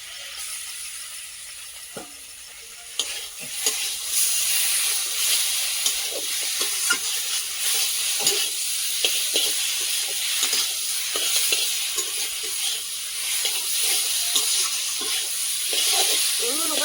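Meat coated with chili, turmeric and salt frying in a pan of spiced oil, a steady broadband sizzle with scattered scraping and stirring clicks throughout, close and fairly loud, no talk.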